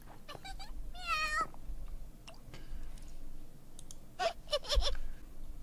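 Someone imitates a cat, a drawn-out meow followed by a couple of quick short mews, set against quiet Minecraft game sounds and small clicks.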